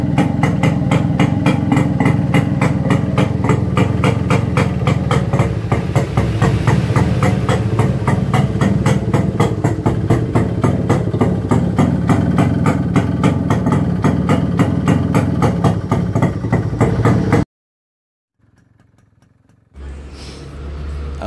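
A Kawasaki Brutus HD140 motorcycle engine running without a silencer, a loud, close, raw rapid-fire idle pulsing steadily for about seventeen seconds, then a sudden cut to near silence before a quieter engine sound resumes.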